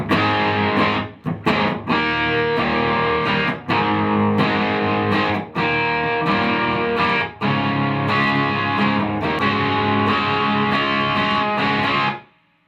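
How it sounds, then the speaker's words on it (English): A heavily distorted electric guitar plays loud sustained riff chords in rhythmic bursts with brief gaps, ending as the last chord is cut off. "I'm going to kick the distortion on so we get the full rockitude onslaught"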